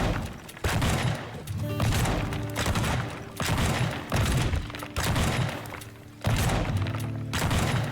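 Repeated heavy shotgun blasts in the video game Teardown, about eight loud booming shots at a steady pace, each followed by crashing debris and thuds.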